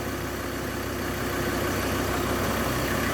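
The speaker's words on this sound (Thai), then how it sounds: "นี่เราก็ สตาร์ท เครื่องอยู่ ไม่ต้อง เร่งเครื่องยนต์ เลยนะเดินเบาไป" A Mazda BT-50 Pro 3.2 pickup engine idles at a steady, even hum with a low mechanical drone that never rises or falls, and no voices over it.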